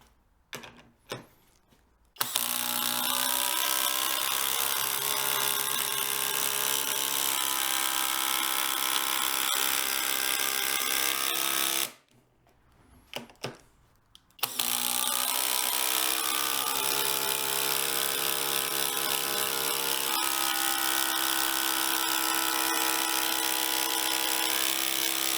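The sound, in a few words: FLEX 24V brushless impact driver driving into board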